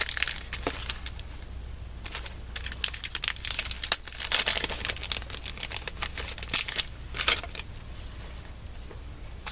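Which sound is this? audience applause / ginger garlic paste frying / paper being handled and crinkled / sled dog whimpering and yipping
paper being handled and crinkled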